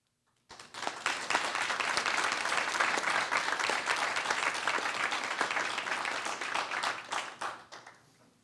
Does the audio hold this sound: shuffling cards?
no